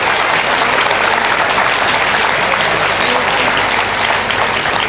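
Sustained, dense applause from a large audience at a temple consecration (kumbabishekam) debate event, loud and continuous with no break, filling the whole stretch.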